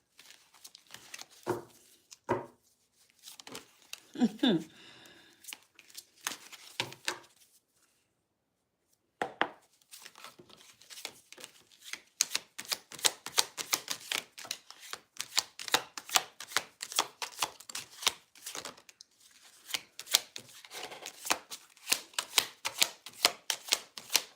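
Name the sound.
shuffling tarot cards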